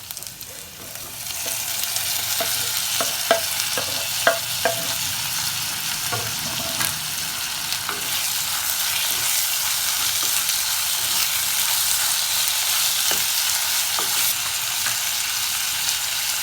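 Tomatoes sizzle and fry in a pan over sautéed onions, a loud continuous crackle with a few stirring clicks near the start, heard up close without talk.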